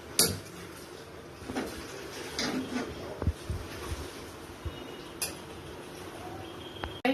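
A wok is set down on a home kitchen stove with a few metallic clanks and clinks, scattered light knocks of pots and utensils against quiet room noise.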